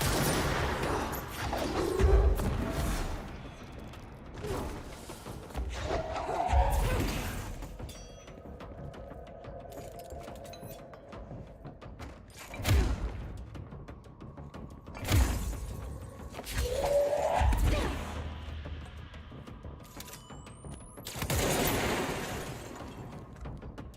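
Gunshots fired in the video game Control, several separated bursts over roughly twenty seconds, loud and sharp against a low ambient game hum, with no talk.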